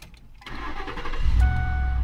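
A cartoon car engine cranks and turns over, then settles into a steady, loud idle with a droning tone, alone without speech.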